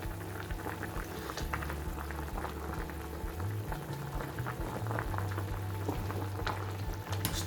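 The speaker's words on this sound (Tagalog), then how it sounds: "So ayan, kumukulo na." A pot of spinach soup bubbles at a steady rolling boil, with small pops and gurgles throughout and a low background hum.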